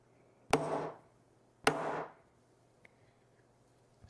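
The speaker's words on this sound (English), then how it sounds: "So I'm gonna use the center punch. Try to center it as best you can." A hammer strikes a center punch held against a metal key to mark a drill hole, two crisp separate taps about a second apart, close and clear in a quiet room, followed by a faint small click.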